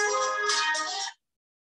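A phone ringtone goes off in a meeting room, a bright, tonal electronic jingle heard close and clear for about a second before cutting off abruptly into silence.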